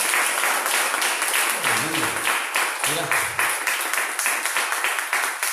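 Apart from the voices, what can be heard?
congregation applauding in church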